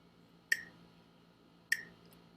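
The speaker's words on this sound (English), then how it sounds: "Let me put the online metronome at 50 BPM." An online metronome set to 50 BPM gives two sharp, clean ticks about 1.2 seconds apart, each a bright click with a brief ring, standing alone over faint room hiss.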